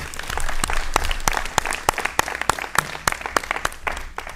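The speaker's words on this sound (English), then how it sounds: "Join me in a round of applause for the candidates for Ward 6" Audience applause at a city aldermen candidates' forum, a steady round of many hands clapping with sharp individual claps standing out, fading slightly toward the end.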